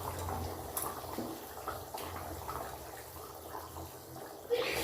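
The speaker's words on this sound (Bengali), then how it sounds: "মাছগুলো দিয়ে দিচ্ছি এবার।" Pieces of aar fish go into a fish curry broth at a rolling boil. A steady close bubbling simmer carries soft splashes throughout, with a sharper burst near the end.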